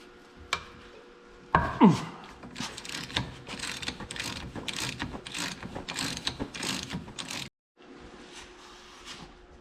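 On the front-wheel-assist axle of a 1855 tractor, a ratchet wrench loosens a nut. Rapid clicking bursts repeat in several strokes, with a sharp metallic clank near the start and a pause before a final round of ratcheting.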